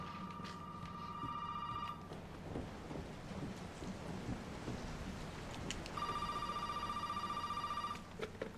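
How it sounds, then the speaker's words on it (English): In a video game, a telephone rings in two electronic bursts, one at the start and one near the end, over a dense backdrop of rain and rumbling thunder. "And now the phone's ringing."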